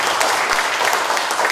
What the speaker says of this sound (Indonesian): Tepuk tangan dulu Bapak Ibu Kepala Sekolah.